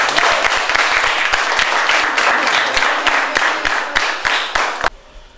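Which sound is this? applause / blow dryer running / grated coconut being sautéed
applause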